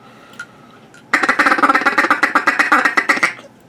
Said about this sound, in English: Probably my favorite duck call that Beaver Creek makes is the hen house.